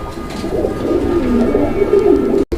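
Pigeons coo softly in low, rolling murmurs, a continuous close-up cooing that ends with a brief cutoff.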